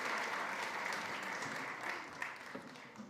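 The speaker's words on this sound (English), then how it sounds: "Round of applause as they exit" Audience applause fills a room at a food-themed summit session as two speakers leave the stage, a steady wash of clapping that thins slightly toward the end with a few louder individual claps.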